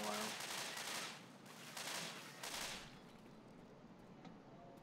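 Assault rifle burst fire in the video game Left 4 Dead 2, loud repeated rattling bursts of gunfire with short pauses between them, fading toward the end.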